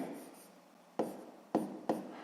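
A pen moves across paper during a sixth-grade math exercise, with steady scratchy strokes broken by three sharper taps or stroke starts, close and fairly clear, and no voices.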